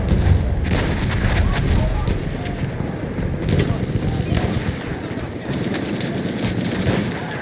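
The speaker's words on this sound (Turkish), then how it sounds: "Düşman makinalı tüfeği." Gunfire in the Battlefield 1 video game on the Sinai Desert map, including enemy machine gun fire, heard as a dense, continuous wash of shots and booms throughout.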